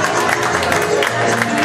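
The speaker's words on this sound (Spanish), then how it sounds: "Aplauso de verdad." Loud, dense audience applause at a live showman's stage performance, a sustained wash of clapping with crowd noise mixed in.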